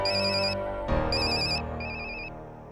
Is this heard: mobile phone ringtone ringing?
yes